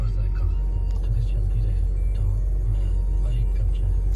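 A car engine idles while warming up, with a steady low rumble and a faintly pulsing rhythm close to the microphone, the noise continuous throughout.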